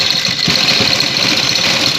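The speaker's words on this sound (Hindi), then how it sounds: "अब जो दूसरी सिलाई है वो लैस के किनारे पे रख के लगाएंगे हम" Sewing machine stitching lace along the edge of a garment neckline, a loud continuous mechanical whir with a rapid steady pulse of the needle running throughout.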